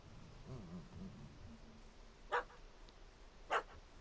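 A dog barks in a fantasy video game scene, two short, sharp barks spaced about a second apart, moderately close, after some faint muffled vocal sounds, with a quiet ambient bed and no talk.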